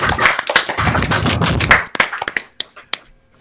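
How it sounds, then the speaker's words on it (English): Scattered clapping from participants in an online talk over unmuted microphones, loud and uneven, with overlapping bursts and some compressed, distorted hand claps that thin out into a few isolated claps before stopping. "if everybody could just quickly unmute their mic for me, and just start clapping"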